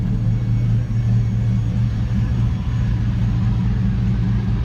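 A 6.0-litre LS V8 swapped into a short-bed half-ton Chevy Silverado rumbles loudly and close by, a deep, steady idle with a slight exhaust leak and no voices.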